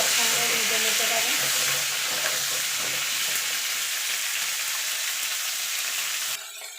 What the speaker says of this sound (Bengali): এই তেলে বাকি ফুলকপিগুলো ভেজে নেব।